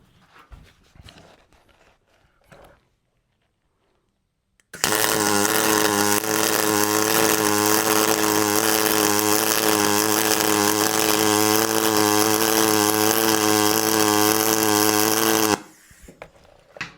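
Aluminum MIG welding on a Fronius Fortis 270 welder, a loud, steady buzzing arc that starts abruptly and runs continuously for about eleven seconds, then cuts off, with faint handling noise before and after.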